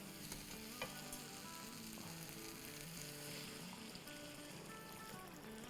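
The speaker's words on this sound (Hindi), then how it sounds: "अब इसमें हम पानी डाल देते हैं शोरबे के हिसाब से।" Water poured into a hot pan of sizzling onion-spice masala for samosa chaat gravy, a continuous loud hiss and bubbling with stirring noises and no talking.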